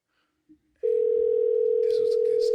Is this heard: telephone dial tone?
yes